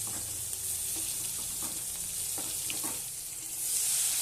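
Large pieces of onion sizzling in hot oil in a wok, a steady dense frying hiss with faint stirring scrapes and small pops, close and continuous throughout, no voices.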